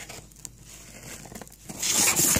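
Scissors snipping and tearing tape on a DVD package, with crinkly crackling and ripping that grows louder near the end, close up and alone.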